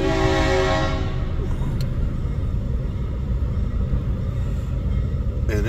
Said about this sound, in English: Train's on their way